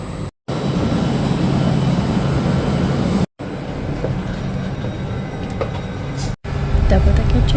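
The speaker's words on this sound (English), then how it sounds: "Double decker train." A double decker train rumbles steadily nearby in Italy, a continuous low rolling roar with clattering wheels that continues through brief breaks.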